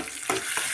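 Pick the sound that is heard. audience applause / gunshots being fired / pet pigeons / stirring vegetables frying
stirring vegetables frying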